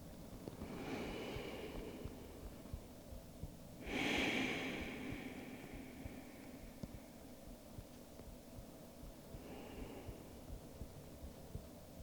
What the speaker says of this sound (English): Let's take 5 breaths.